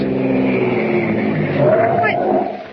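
A car in a 1940 Superman radio adventure rushes closer with its headlights on, the engine drone swelling toward the end under continuous dramatic speech and music.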